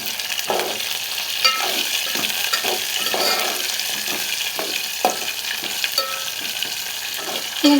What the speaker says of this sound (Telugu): ఇది కాస్త వేగుతున్నప్పుడు మనం ఇందులోకి కరివేపాకు యాడ్ చేసుకున్నాం